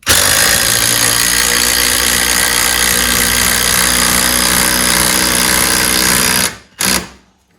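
Impact driver fitted with a right angle adapter driving lag bolts, a loud continuous rapid hammering rattle held for several seconds, then a brief pause and a short final burst.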